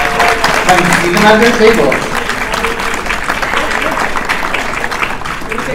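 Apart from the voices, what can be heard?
audience applause at a convention panel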